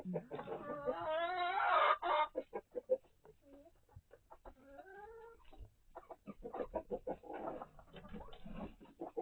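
Chickens clucking and a rooster's drawn-out call nearby on a homestead, bursts of squawking and clucks interspersed with short pauses, no talking.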